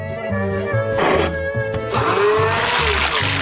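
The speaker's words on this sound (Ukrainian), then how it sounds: "Кладемо рибу в блендер і подрібнюємо." A blender chops fish for a cocktail, its motor whirring in a steady pulsing drone close to the microphone with a rising grinding pitch toward the end.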